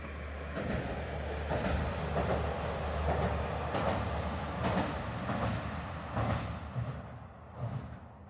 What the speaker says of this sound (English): Beary managed to capture a train going the other way.